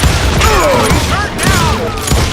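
Gunshots in Call of Juarez Gunslinger, a Western shooter game, come as several loud booming cracks with ricochet-like whines between them, mixed with in-game voices.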